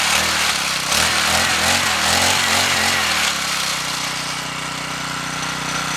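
A KTX Radical pocket bike's small engine revs up loudly as the throttle is pulled, a rough rising buzz for about three seconds before settling back to a steady idle.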